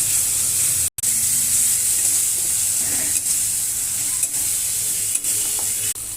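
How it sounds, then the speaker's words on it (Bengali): Spice paste for a Bengali fish curry sizzles in hot oil in a pan while a spatula stirs and scrapes it, producing a continuous close hiss with brief scraping strokes. "মশলাটাকে ভালোভাবে কষিয়ে নেব।"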